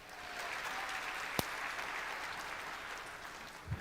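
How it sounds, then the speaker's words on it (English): An audience applauds at a talk or workshop, giving a steady wash of many hands clapping at moderate distance, with one sharp bang partway through and a couple of low thumps near the end. "Give these guys one more round of applause."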